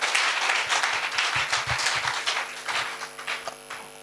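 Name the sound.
congregation applauding in church service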